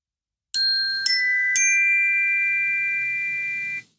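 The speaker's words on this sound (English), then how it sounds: "Ding dong ding just simply means we're done with that thing and we're moving on." A bright three-note ding-dong-ding chime marks the end of an exercise, three quick struck tones ringing out loud and clear, then sustaining together and slowly fading before stopping.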